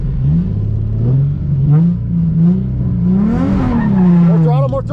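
A car drifts under throttle with its tires sliding. The engine revs rise and fall and a loud tire squeal swells toward the end, with some voices mixed in.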